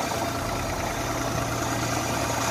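A car engine idles steadily with a low, even rumble and faint vibration, close by and unbroken, with no voices over it.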